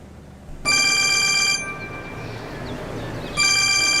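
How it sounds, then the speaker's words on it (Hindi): An old-style telephone bell rings loudly in two bursts in a TV drama scene, separated by a short gap of background noise. "अरे बॉस का फोन आ रहा है।"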